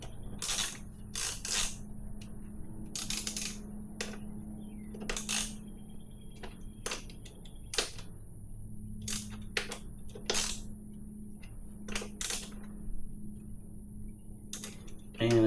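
Tools tightening bolts while a dual-sport motorcycle tire, a Shinko on a KLR650, is remounted: a close, fairly quiet run of short metallic clicks and ratcheting taps in irregular bursts, with no talk.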